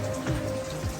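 Rain falls steadily around a dinghy at Great Guana Cay in the Bahamas during a squall, a dense, even patter hissing on water and the boat, continuous and close with no voices.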